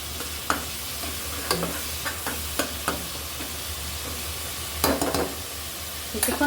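Fish and spices sauté in a pan for a radish-and-fish curry, a steady low sizzle broken by sharp spoon scrapes and stirring clatters, with a louder burst of scraping near the end.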